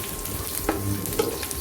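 Green chilies frying in oil with roasted peanuts for vermicelli upma, a soft steady sizzle with a couple of quick stirring scrapes, close and alone.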